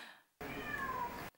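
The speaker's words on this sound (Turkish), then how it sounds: "Kedi mi var salonda?" A cat meows once in a studio setting, a single clear, drawn-out call with a rising then falling pitch, loud and close, with no talk over it.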